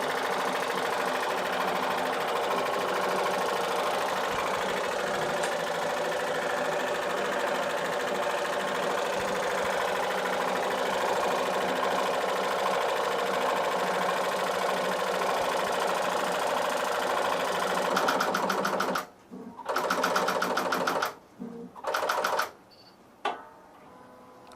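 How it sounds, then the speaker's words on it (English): ProSpangle bling transfer machine working through a design copy, a steady mechanical whir with fast ticking that runs without a break for most of the stretch, then stops and starts in short bursts near the end. "We told the machine that we wanted 2 copies"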